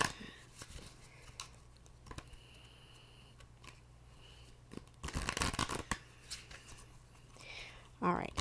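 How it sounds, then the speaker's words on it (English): Thin tarot cards are shuffled by hand in short riffling bursts, quiet and close, separated by pauses, with the loudest flurries near the middle and at the end. "these cards are so easy to shuffle, man"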